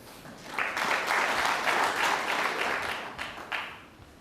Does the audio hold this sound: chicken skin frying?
no